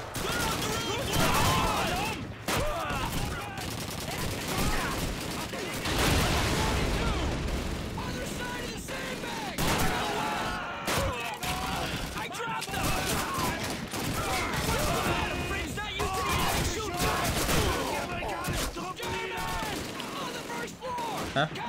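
Gunfire fills a Call of Duty 2 battle scene as a pistol is used to clear a building, with repeated sharp shots and scattered bursts over constant loud combat noise and occasional talking.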